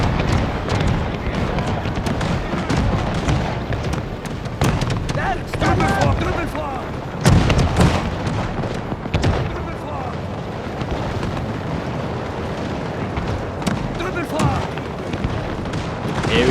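Musket volleys crack and boom through a Total War: Pike & Shot multiplayer battle, a dense continuous roar of distant gunfire and explosions under steady battle noise.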